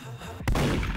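A single sharp gunshot in Roblox Murder Mystery 2, a sudden loud crack halfway through followed by a brief booming tail, over faint background game sound.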